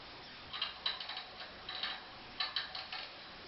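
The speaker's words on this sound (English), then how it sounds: "pull the rest of your slack through the spool" Cable is pulled through a spool in a series of short, uneven ticking and clicking bursts, close and fairly faint, with no talk.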